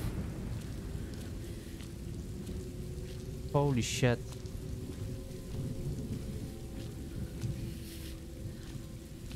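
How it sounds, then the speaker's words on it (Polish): Steady rain hisses throughout while a low thunder rumbles underneath, and a voice briefly exclaims partway through, in the video game Road 96. "nie mówcie, że deszcz pada"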